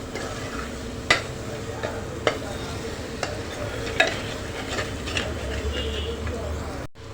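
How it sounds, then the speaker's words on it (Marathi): Spices stir-fried in a pan for a soaked-pea and potato curry, with a steady sizzle and a few sharp spoon scrapes and clicks spaced through it, fairly close and moderately loud. "मसाले छान परतून घेणार आहोत"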